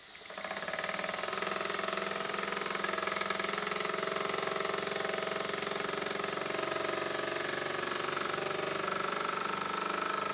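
A small engine runs steadily at a constant rapid idle, a continuous buzzing, knocking drone close by with no voices.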